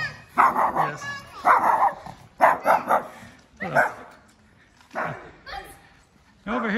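A small guard dog at a house compound in Cuenca, Ecuador barks in short yappy bursts, several spaced barks close by, with people talking over and between them.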